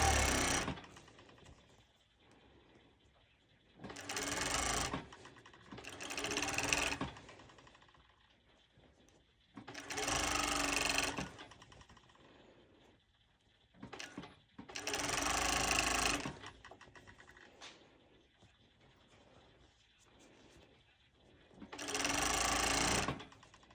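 A sewing machine stitches stretchy sporty top fabric in several bursts of rapid, buzzing whirr, each lasting a second or two, separated by quiet pauses.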